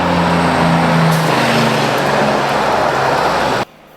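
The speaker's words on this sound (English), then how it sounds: "A huge amount of traffic, by South Island standards, comes down this road" Traffic on the narrow Kaikoura coast highway in New Zealand, a heavy vehicle's engine droning loudly close by with a low humming tone, then cutting off abruptly.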